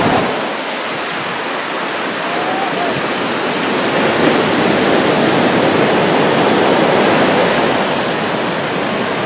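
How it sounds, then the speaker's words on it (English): Steady, loud roar of ocean surf breaking on a surfers' beach in Bali, a continuous broadband wash that swells slightly midway, heard close and alone without talk. "It's definitely a surfer's beach."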